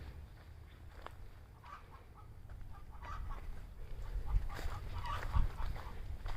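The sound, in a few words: chickens cackling in coop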